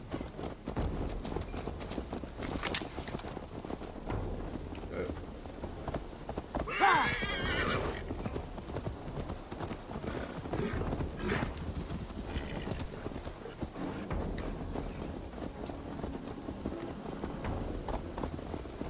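Horses in the video game Assassin's Creed Valhalla trot with steady clip-clopping hooves throughout, and one horse lets out a loud whinny partway through, with faint voices underneath.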